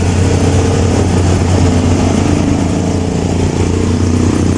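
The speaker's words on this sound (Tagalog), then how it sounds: "Maraming sasakyan at saka tricycle dumadaan dito." Busy traffic of cars and motorcycle tricycles at the plaza by City Hall in General Santos City, a loud, constant low engine rumble of idling and passing vehicles with no voices.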